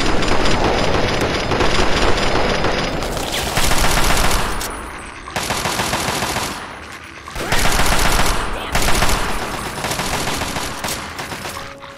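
Sustained heavy automatic gunfire from a minigun in Fallout 3, loud rapid bursts of several seconds each separated by brief pauses.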